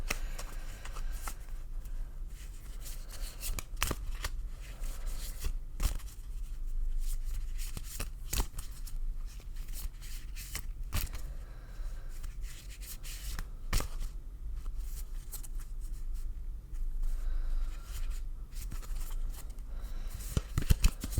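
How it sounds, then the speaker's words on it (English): Tarot cards being shuffled by hand in repeated bursts of riffling and sliding, close and fairly quiet, with no voices. "Let's do a bit of shuffling until Spirit asks me to stop"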